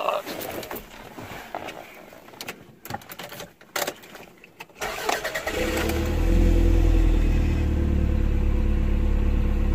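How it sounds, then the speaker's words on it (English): A 1993 Toyota MR2 is cold-started after sitting four days: clicking and cranking give way around six seconds to a steady, loud idle with a low rumble, and a voice is heard early on. "I'll begin with a cold start."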